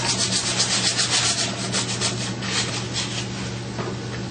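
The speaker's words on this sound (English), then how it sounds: "Use your emery cloth, 360 degrees around the pipe itself, removing any contamination," Emery cloth rubs steadily around a pipe to strip paint, rust and contamination ahead of a pinhole seal repair, a close, continuous rasping scrub with a low hum behind it.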